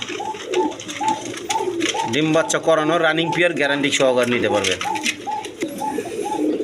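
A breeding pair of Sirazi Lahori pigeons coos in soft, rhythmic bursts close by, repeating across the clip beneath someone speaking.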